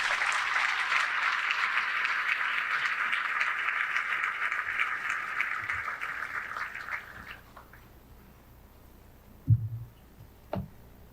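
Audience applause at a medical school white coat ceremony, a dense sustained clapping that fades out over several seconds, followed by a few thumps and quiet room noise.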